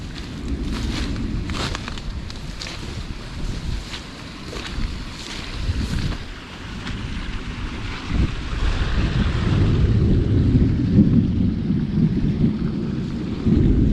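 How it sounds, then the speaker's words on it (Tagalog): Heavy rain and wind batter the microphone outdoors during a storm, with a low rumble of thunder swelling toward the end; steady, loud broadband roar throughout, no talking. "lakas ang kulog eh"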